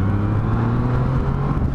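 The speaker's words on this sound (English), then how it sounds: "I open up the throttle and it's a lot more sedate." A Yamaha MT-09 motorcycle engine runs in B mode as the throttle is opened, a close, loud, steady engine drone with a smooth, gradual rise in tone, no voices.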